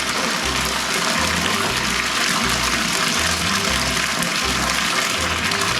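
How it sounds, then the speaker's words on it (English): Hot maple syrup pours steadily into a pot during organic syrup bottling, a continuous rushing liquid flow with low machinery hum beneath, loud and unbroken. "get some syrup, hot syrup, into our pot so we can stir all that filter aid in"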